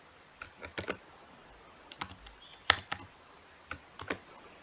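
Someone types a captcha on a computer keyboard, with sparse clustered key clicks and taps in short bursts separated by pauses, close and fairly quiet, with no talking.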